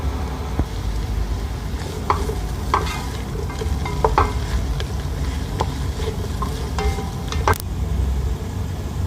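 Cabbage and capsicum stir-frying in a pan for Singaporean rice, a steady loud sizzle with repeated scraping stir strokes and clinks throughout, no voices.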